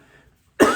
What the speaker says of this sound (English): my allergies make me cough in the morning here